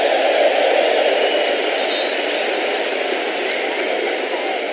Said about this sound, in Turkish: Fatih Terim alkış alıyor.